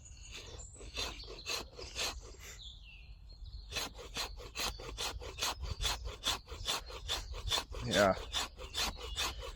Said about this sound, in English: Just scraping it off from some wood.